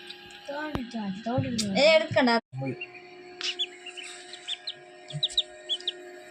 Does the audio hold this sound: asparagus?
no